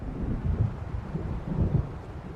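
Low rumbling storm thunder in the Alan Wake video game, heard as a muffled rolling drone with a couple of deeper swells amid wind-like noise.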